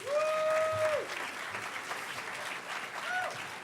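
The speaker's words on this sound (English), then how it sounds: "Darko, round of applause" Audience applause at the HOPE Number Nine hacker conference closing ceremonies in 2012, a steady roomful of clapping throughout, with faint whistles and a few voices rising above it.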